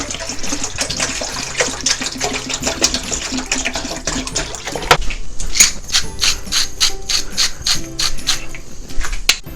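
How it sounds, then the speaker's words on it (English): Tap water pours steadily into a cooking pot set up for boiling Toowoomba pasta, a continuous, close, bright gush that splashes throughout, with scattered clinks and clatters in the second half. "I just put on some water for the pasta"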